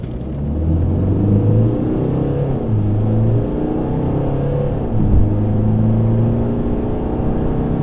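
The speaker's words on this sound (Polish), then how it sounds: "Włączamy tryb Sport Plus i sprawdzamy przyspieszenie." A Mercedes-Benz C220 (W205) accelerating hard in Sport Plus mode, a steady loud engine drone with rising harmonics that dip briefly around gear changes, continuous for the whole stretch with no talk.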